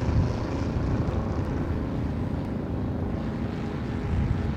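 A steady, loud low-pitched engine drone with a constant rumble, running evenly for several seconds without talk.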